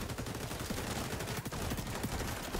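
M4 rifle fire in the video game XDefiant, rapid continuous bursts of shots crackling densely throughout at moderate loudness, no speech.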